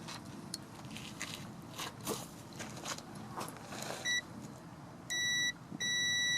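A multimeter continuity tester checking a car power window switch, giving sharp electronic beeps that come on when contact is made, first a short one and then two longer tones, over faint handling clicks and rustle.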